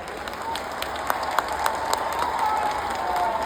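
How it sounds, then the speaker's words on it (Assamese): Audience applause at a teacher appointment-day ceremony welcoming a public leader, a steady broad wash of clapping with a few sharper claps standing out, building slightly toward the end with no talk over it. "ডাঙৰ হাত চাপৰি আদৰণি জনাবলৈ অনুৰোধ জনাইছোঁ"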